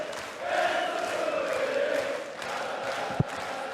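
Darts crowd at a round-two match of the 2017 Austrian Darts Open, a steady roar of cheering and chanting that holds for several seconds, with a brief sharp knock near the end.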